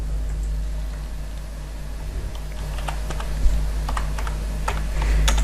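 A computer keyboard is typed on in scattered, light clicks over a steady low electrical hum, with no speech.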